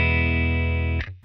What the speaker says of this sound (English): Here's my clean sound.